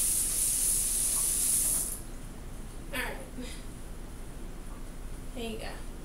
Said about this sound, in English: let me rinse off her pacifier